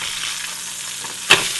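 Portobello mushrooms sizzle steadily in a hot pan after being flipped, a constant crackling hiss broken by one brief sharp clatter near the end.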